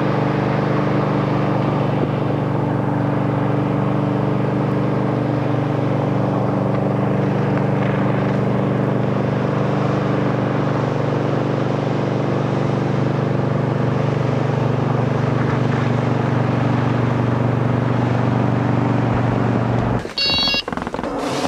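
A motorboat engine on a lake in high summer holds a steady, loud droning hum with a strong low tone for about twenty seconds. Then it cuts off abruptly, ending in a brief clatter.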